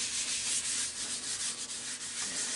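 Yorkshire grit abrasive paste rubbed onto a spinning piece of spalted hackberry on a wood lathe, a soft, continuous gritty hiss with slight pulsing swells of friction, close and fairly quiet.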